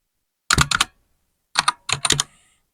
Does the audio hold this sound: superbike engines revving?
no